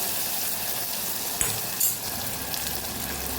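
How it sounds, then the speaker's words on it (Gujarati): Steady frying sizzle of tomatoes in hot oil, broadband crackle throughout, with a couple of brief clinks from a utensil partway through. "ટમેટાને પણ સરસ સાતળી લેવાનું છે"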